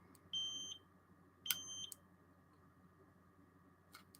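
A radiation dosimeter sounds short electronic beeps indoors, one near the start, another around the middle with a quick follow-up, over a low steady background hum; the beeps are thin, high and fairly quiet.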